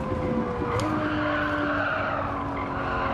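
Tires squeal as a race car skids in a racing video game, a sustained high screech layered over a loud, continuous engine drone with no talk.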